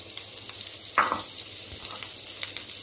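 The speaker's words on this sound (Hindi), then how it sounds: "उसको अच्छे से हम लोगों ने फ्राई करना है, लो मीडियम फ्लेम आप लोगों ने रखनी है।" Carrots, capsicum and onion frying in about two tablespoons of oil in a pan over low-medium flame, a soft steady sizzle with a brief louder burst as they stir.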